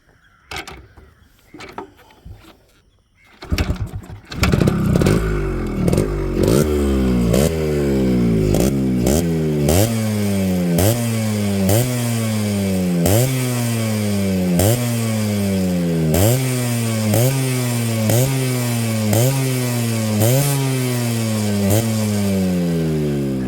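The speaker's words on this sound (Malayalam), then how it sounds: "അപ്പം നമുക്ക് നേരെ വണ്ടിയുടെ സൗണ്ട് ഒന്ന് കേട്ടിട്ട് വരാം" A Yamaha RX100 motorcycle engine fires up after a few seconds of quiet handling, then revs loudly and steadily in repeated rising throttle blips, close up and alone, with no talk over it.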